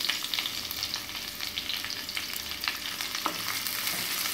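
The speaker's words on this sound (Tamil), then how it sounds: "வெங்காயம் நல்லா வதங்கிடுச்சு" Sliced onions with green chillies frying in a pan for vegetable pulao, a steady even sizzle with light stirring scrapes throughout, no voices.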